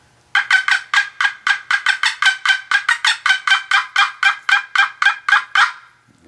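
A turkey hen's cackle imitated on a wooden box call: a rapid run of about twenty sharp, raspy yelps, loud and close, quickening and irregular in rhythm, with no voices.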